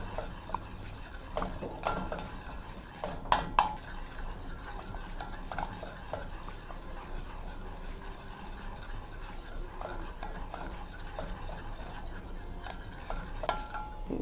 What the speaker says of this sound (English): So we are going to stir this until everything is dissolved.